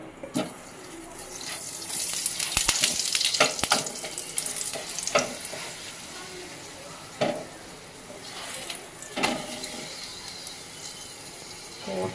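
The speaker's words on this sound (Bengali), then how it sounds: "এবার এক এক করে পরোটাগুলো ভেজে নেব।" Parathas fry in oil on a griddle with a soft, continuous crackle, broken by occasional sharp clinks and scrapes of utensils nearby.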